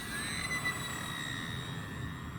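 A small RC F8F Bearcat model airplane, 1100mm US Navy fighter, cruises steadily at quarter power without flaps on a breezy day, its motor giving a continuous thin whine with high tonal lines over low wind rumble.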